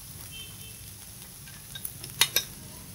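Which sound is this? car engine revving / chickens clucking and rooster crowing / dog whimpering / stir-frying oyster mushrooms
stir-frying oyster mushrooms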